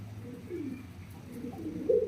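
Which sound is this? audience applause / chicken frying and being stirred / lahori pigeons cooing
lahori pigeons cooing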